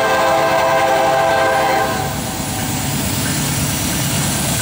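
Norfolk Southern freight train led by a CW44-9 and two SD70ACe locomotives passes close and loud, with a horn blast at the start over steady rumbling and clattering wheels.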